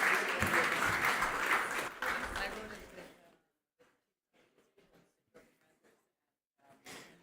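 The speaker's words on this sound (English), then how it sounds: "Big round of applause, please." Applause from a panel discussion audience at the Munich Security Conference fills the first three seconds, then fades, followed by quiet with a few faint scattered sounds and brief murmurs.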